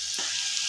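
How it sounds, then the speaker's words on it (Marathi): Corn bhaji deep fry in hot oil, a short burst of steady, close bubbling sizzle with one brief soft clink. "लालसर रंग येईपर्यंत आपल्याला तळून घ्यायची भजी आपली"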